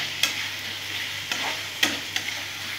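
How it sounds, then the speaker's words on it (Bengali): Teasel gourd being stirred with spices in a dry pan, a soft steady sizzle with a few sharp scrapes and clicks of the spatula against the pan at irregular moments, close and with no voices. "খুব সুন্দর এই মশলার সাথে কাঁকরোলটা ভালো করে মিশিয়ে নেব।"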